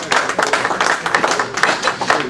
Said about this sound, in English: Let's welcome to the podium with a proud round of applause, Dr. David Ramsay Steele.